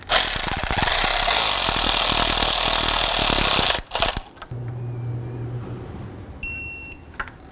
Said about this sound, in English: Now we're going to snug this up and then we'll torque it to 9 foot-pounds.